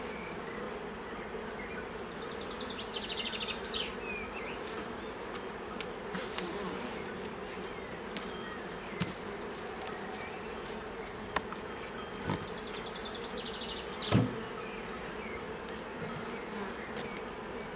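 A swarm of honey bees buzzing steadily in a newly made artificial hive, a continuous low drone with occasional nearer passes of single bees and light knocks of wooden hive parts, fairly quiet, with no speech.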